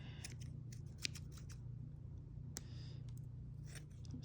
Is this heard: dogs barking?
no